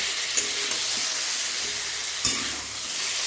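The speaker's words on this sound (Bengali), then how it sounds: "ঝিঙে আর আলুগুলোকে এই দেখুন বন্ধুরা এগুলোকে কিন্তু খুব ভালোভাবে একটু ভেজে নেব" Ridge gourd and potato pieces fry in a pan with a steady close sizzle and hiss, broken by a couple of soft stirring scrapes.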